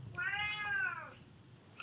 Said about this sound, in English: He's going to be very vocal today. My cat.